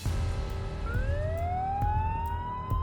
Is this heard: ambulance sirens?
yes